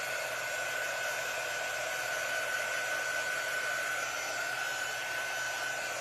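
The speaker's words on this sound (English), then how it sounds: "I'm going to dry this really well because it's very wet" A hair dryer blowing on a very wet transfer on a craft project, a steady continuous whirring hum running throughout at moderate volume with no talk.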